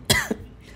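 A single short, sharp cough, close and fairly loud, with a small second catch right after.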